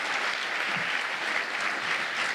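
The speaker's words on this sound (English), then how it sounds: "Why don't you give him a round of applause if you would." Dense, steady applause from a college convention audience greeting a university president, a continuous even wash of many hands clapping with no voices on top.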